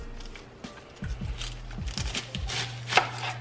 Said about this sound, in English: while I am cutting my cabbage up